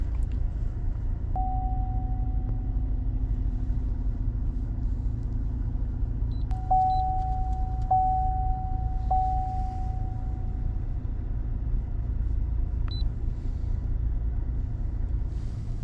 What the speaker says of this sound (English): The truck is running like crap. I don't know if you can hear the stumbling noise.